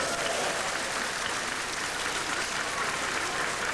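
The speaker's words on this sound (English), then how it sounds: "The spontaneous cheer and applause underscored the excitement of Ghana's Latter-day Saints" A large congregation of Latter-day Saints in Ghana bursts into dense, sustained applause and cheering after a temple in Accra is announced, a steady roar of clapping filling the hall without pause.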